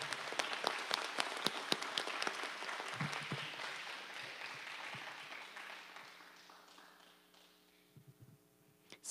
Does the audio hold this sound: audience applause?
yes